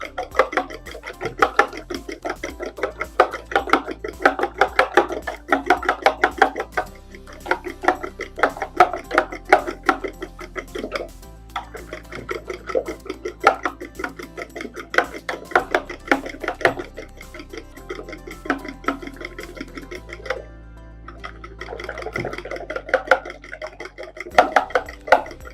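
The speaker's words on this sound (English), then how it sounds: "So let's whisk our egg." Rapid whisking of an egg in a bowl while baking a cake, a steady run of close, light clinks and scrapes with a few short pauses and no talk.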